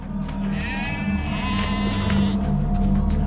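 Sheep bleat over a low background drone, several wavering cries rising and falling close by and clearly audible.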